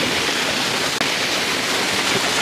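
The Kamandag waterfall in Alfonso, Cavite makes a loud, steady roar of falling water, a dense unbroken rush heard close by with no voices.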